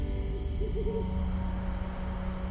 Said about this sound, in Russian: Совы кричат.